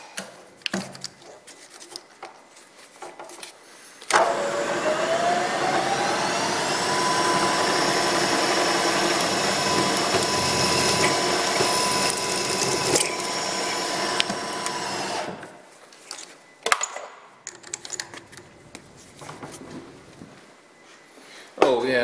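A machine drilling holes in worm thrust plates in a shop starts abruptly with a loud, steady whirring drone and a high whine that lasts about ten seconds, then stops, leaving sporadic clanks and handling noises.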